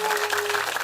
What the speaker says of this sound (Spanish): ¡Aplausitos!